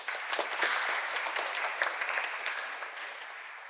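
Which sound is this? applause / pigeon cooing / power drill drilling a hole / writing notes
applause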